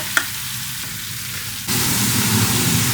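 Onions frying in oil for homemade onion oil: a steady sizzle that jumps suddenly louder and stays dense and crackling, after a brief clink near the start.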